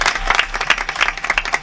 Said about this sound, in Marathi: एकदा तर बघा टाळ्या वाजव.